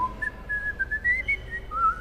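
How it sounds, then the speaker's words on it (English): A lone person whistles a bright, wandering melody, the clear tone sliding and stepping through a few notes over a low, steady background rumble. "if you can whistle it on your way home"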